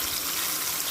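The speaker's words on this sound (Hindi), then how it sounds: "हम इसमें रख के थोड़ा सा पानी शामिल करके इसे ढक देंगे।" Water pours steadily into a pan of minced meat with peas, a continuous close splashing rush with no talk.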